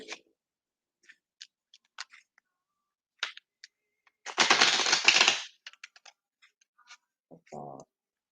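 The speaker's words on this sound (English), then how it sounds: "I need to shuffle again." Tarot cards shuffled by hand, a dense riffling burst of about a second among scattered light card clicks and taps, close and otherwise quiet, with a brief voice near the end.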